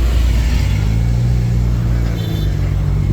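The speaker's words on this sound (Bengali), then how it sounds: "কত বড় গাড়ি।" A large vehicle passes on the Dhaka–Chittagong highway at Miar Bazar, a loud close engine rumble with steady road noise throughout, no talk.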